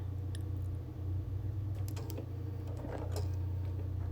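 Sewing machine quilting a wool appliquéd quilt, a steady low mechanical hum with fine rhythmic needle ticking and occasional light creaks, close and fairly quiet, with no talk.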